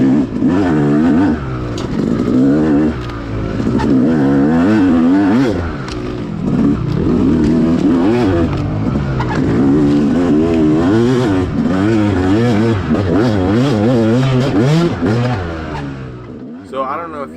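A two-stroke motorcycle engine on an off-road race course revs hard and near, rising and falling in repeated wide-open surges before easing off at the end.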